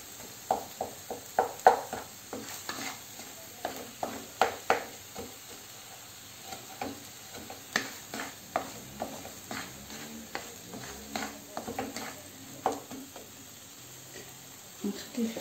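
Kefta browning in a pan sizzles softly while a utensil scrapes and stirs it in irregular clicks and scrapes, close and fairly quiet.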